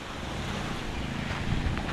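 Strong wind and a rough, swelling sea during Typhoon Pepito, with boats moored along the shore, heard as a dense, steady roar of gusts buffeting the microphone and surf breaking nearby.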